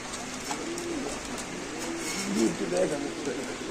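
Low pigeon cooing mixed into a busy outdoor pigeon market, with people talking over it.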